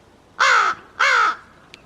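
Crows cawing outdoors on a winter day: two loud, close, harsh caws about half a second apart, followed by a faint click.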